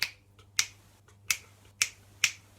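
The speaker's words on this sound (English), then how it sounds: "you can have something like the rumba clave" Fingers snap out a rumba clave rhythm: five crisp, close snaps in a syncopated pattern, with no talking.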